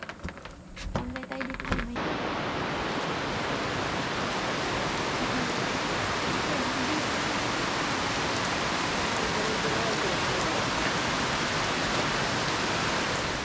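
Rain pouring down in Daraitan, Tanay, Rizal, a dense, steady hiss that surges in abruptly after a couple of quieter seconds and then stays loud and unbroken to the end.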